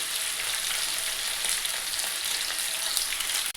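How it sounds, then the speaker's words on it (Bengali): Large katla fish pieces frying lightly in hot oil give a steady, dense sizzle, close and even throughout with no voices. "হালকা ফ্রাই করবো এগুলোকে।"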